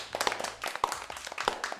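A short run of hand claps, light and fairly quick, with some irregular taps, heard faintly against low background noise.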